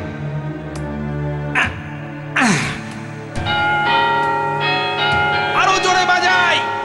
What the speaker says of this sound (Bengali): বাজাও না, ঘন্টাটা বাজাও।